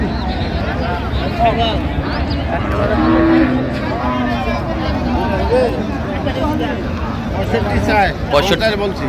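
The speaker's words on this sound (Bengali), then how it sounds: "গাভী বাছুর।" Cows moo loudly and repeatedly amid a busy crowd of people talking and murmuring all around at the Raniganj cattle market in Dinajpur, where cows and calves are sold.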